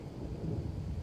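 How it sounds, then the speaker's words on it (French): Thunder rolling during a June storm over a rainy garden, a low, soft, continuous rumble heard at a distance with a faint hiss of rain beneath, brief and without speech. "comme vous entendez, le tonnerre."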